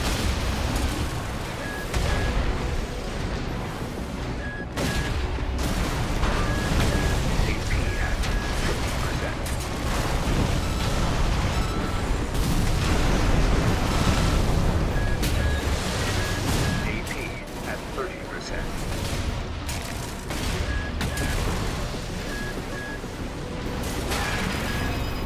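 Enemy missile fire and explosions in Armored Core VI form a dense, constant barrage of blasts and bursts. Loud, overlapping impacts run without pause, with talk mixed underneath.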